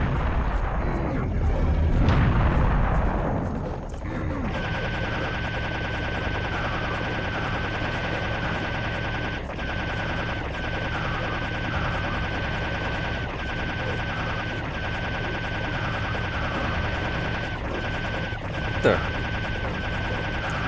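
Serious Sam: The First Encounter gameplay in the Karnak level, a rocket launcher firing at a lava golem: a heavy rumbling blast early on, then a sustained roaring battle din with scattered impacts.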